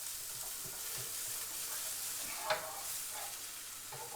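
An egg, ham and cheese toastie sizzles steadily in a frying pan after being flipped, a soft continuous frying hiss with one small knock midway, no talking.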